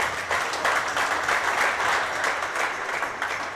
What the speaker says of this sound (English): Big applause here from everybody in Castlebridge